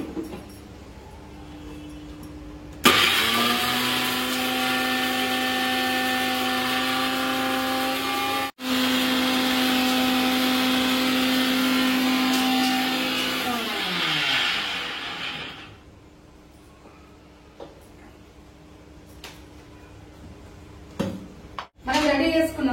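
An electric grinder powders garam masala mixed with coriander seeds, giving a loud, steady whirring drone that runs for about twelve seconds with a short break, then spins down and stops.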